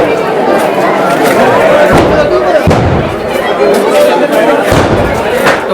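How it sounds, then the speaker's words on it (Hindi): Firecrackers and guns go off during Barood ki Holi in Menar, with loud booming cracks at scattered moments over a dense, continuous roar of crowd noise. "पटाखों की, बंदूकों की जो गड़गड़ाहट है वो स्टार्ट हो गई मीनार के अंदर"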